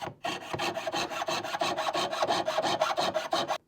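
Steady back-and-forth hand sawing through wood, about a dozen rhythmic rasping strokes, close and loud, with no talking.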